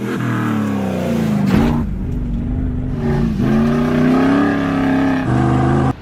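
A 2022 Ford F350 Tremor pickup with a 7.3L engine labors up a slushy snow hill, its engine droning loud and close with rising revs and brief dips between pushes of throttle.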